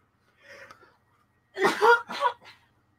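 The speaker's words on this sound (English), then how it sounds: "She's coughing on everyone." A girl gives a soft cough, then after a pause a louder burst of coughing in two or three quick bouts, close by.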